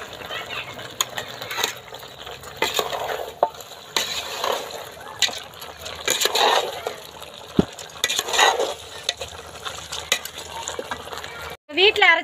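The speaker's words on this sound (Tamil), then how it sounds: "நல்லா வதக்குறேன். எல்லாத்தையும் எண்ணெயிலே நல்லா வதக்கணுங்க." Ground spices, turmeric and freshly ground coconut sautéing in oil for a village-style country chicken gravy, with steady stirring scrapes and soft sizzling against the pan, plus occasional sharp clinks of a utensil.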